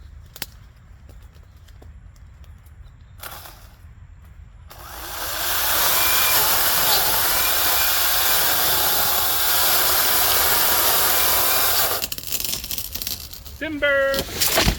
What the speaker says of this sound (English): I'm going to make that back cut starting from the top diagonal down into that wedge.